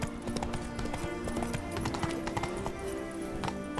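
Roach the horse's hooves clip-clop at a steady walking rhythm in The Witcher 3, close and clear over a bed of medieval fair music and crowd ambience.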